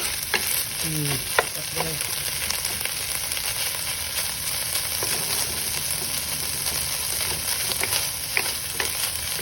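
Canned Argentina ground pork (giniling) sizzles steadily in a pan with occasional scrapes and stirring clatter. A single short spoken word is heard near the start.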